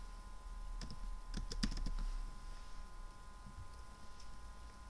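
Typing on a computer keyboard while writing JavaScript code, with a quick run of close clicky keystrokes clustered near the start and sparse taps afterward over a steady low hum.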